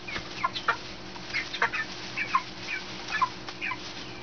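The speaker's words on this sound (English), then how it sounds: "It's definitely a big fat chicken right here." Clucking and short calls from six-week-old Jumbo Cornish Cross meat chickens in a backyard pen, a string of separate bird notes at moderate distance with no talk.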